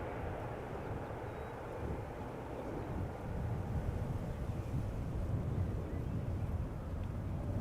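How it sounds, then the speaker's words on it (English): A Turkish Airlines A350-900 takes off from runway 24 at Schiphol Airport, a broad distant jet roar rising slightly in loudness, with wind rumbling across the microphone. "There it is, Turkish Airlines flight 1952, A350-900, outbound to Istanbul. Just took off from runway 24."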